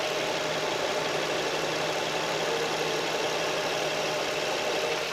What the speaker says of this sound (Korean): SM7 차량 엔진룸 개방해봤습니다 엔진 소리 한번 들어보시겠습니다